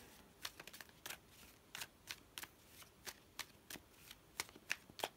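A deck of tarot cards is shuffled and cut, giving a series of crisp, snappy riffles and slaps in irregular bursts, close and fairly quiet with no voices.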